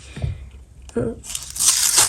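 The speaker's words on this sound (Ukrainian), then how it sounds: "У мене, на жаль, не вийшло не порвати пакетик" A paper surprise packet for Brawl Stars collectibles is torn open up close, a sharp bright ripping and rustling that follows a few soft handling noises, with no talk over it.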